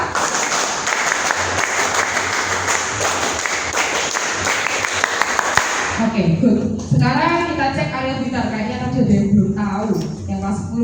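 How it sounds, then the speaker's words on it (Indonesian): A group of Indonesian scouts does the Pramuka scout clap twice at a JOTA JOTI event, a loud, crowded burst of clapping that stops abruptly, followed by a person talking. "2 kali tepuk pramuka"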